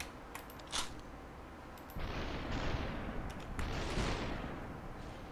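Slowed-time gunshots in the video game SUPERHOT, with a couple of faint cracks and then long, dull, rumbling blasts that swell and fade.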